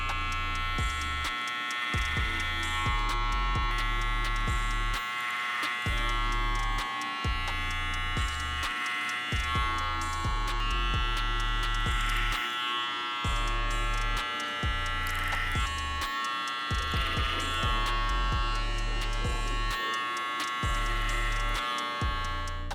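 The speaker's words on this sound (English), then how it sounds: "So I'm gonna continue the debulking process with clipper over comb." Electric hair clippers cut a man's hair clipper-over-comb during a textured fade, giving a continuous close buzzing hum that pulses slightly as the blades pass through the hair, with no talking.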